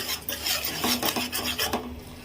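Ginger garlic paste frying in a pan with onion and chilli paste for a Telugu fish curry, giving a steady close rasping scrape and stir with faint sizzle and a few light metal pan clinks, no talking.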